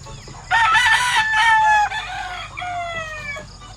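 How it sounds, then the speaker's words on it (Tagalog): A rooster crows loudly nearby with a long, strained call, then a second rooster crows more faintly, over a low background hum. "pinakawalan na natin yung mga tandang"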